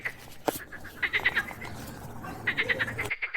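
A frog in a read-along story croaks in two short bursts of rapid, raspy pulses, close and fairly clear, separated by a quiet stretch, with a brief sharp knock early on.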